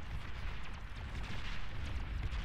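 Commander bomb going off in the strategy game Beyond All Reason, a dense, rumbling blast roar that fills the whole moment with continuous heavy low-end booming and crackle.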